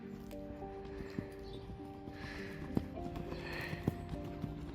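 A working horse in a riding session moves with faint, irregular hoof thuds on the arena ground, heard at a distance under a steady background hum.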